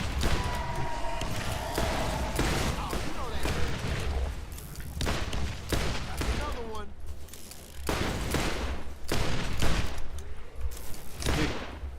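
Turret opening up in Borderlands gameplay, with dense bursts of gunfire and impacts that come and go across the stretch, loud and close, layered with game effects and a voice speaking at times.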